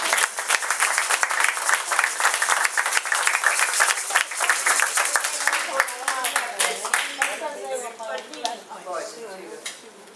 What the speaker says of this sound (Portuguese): Aplaudir a nós mesmos.